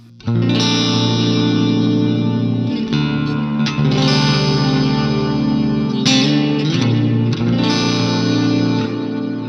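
An electric guitar on a clean split-coil tone with half-note triplet delay plays sustained chords and notes, repeating echoes trailing behind each one, filling the space with a washy, reverberant tone.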